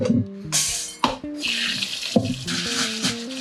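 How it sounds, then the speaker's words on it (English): Rice being rinsed by hand under a running kitchen tap before cooking, a steady rush of water broken by swishing bursts and a few sharp splashes, close and fairly loud with no talking. "just rinse a little bit your rice before cooking"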